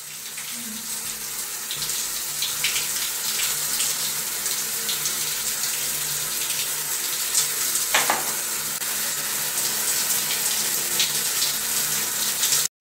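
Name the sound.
shower running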